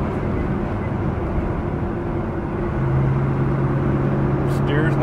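A 1963 Chevrolet Corvette Stingray split-window coupe cruising on an interstate highway, steady engine drone and road roar throughout, rising slightly in level partway through, with a faint voice.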